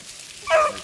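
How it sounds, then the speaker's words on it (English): A hunting dog chasing rabbits gives a single short bark or yip from a middle distance, a brief burst over quiet outdoor background. "there's the dogs"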